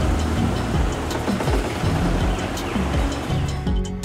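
Motorboat wake waves on a river in the Serra do Divisor, a steady loud washing surge with rhythmic slaps throughout, no talk.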